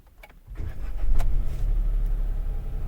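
A Hyundai Venue SX, started with a flip key from inside the cabin, cranks and catches after half a second, then settles into a steady, fairly close idle rumble.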